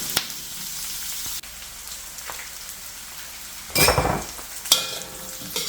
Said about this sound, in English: He's sauteing it till the onions turn translucent